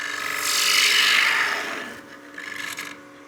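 Wood lathe tool cutting into a spinning turned coin box, a rising and fading hissing shear of the cut over the lathe's hum, close and fairly loud, followed by a shorter second pass.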